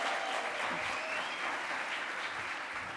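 Sustained applause and cheering from a crowd of students at an awards event, a dense continuous clatter of clapping with faint whoops, steady and fairly loud throughout.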